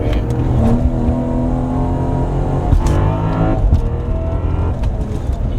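BMW B58 engine fitted with a front mount intake, accelerating steadily under load from inside the car, a loud continuous drone with rising harmonics and a brief surge near the middle.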